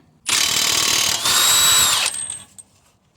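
A power tool, likely an impact gun, spins off the 32mm front axle nut on a Dodge Durango 4.7 during front differential removal, one loud close whirring burst of about two seconds that winds down with a brief ratcheting tail.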